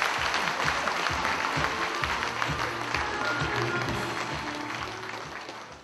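Audience applause follows a congratulatory speech at a school alumni reunion, a dense burst of many hands clapping that stays loud and steady, then gradually thins and fades over several seconds.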